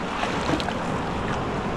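Strong sea waves wash and surge around a small fishing boat at sea, a steady broadband roar of water and wind buffeting the microphone close by.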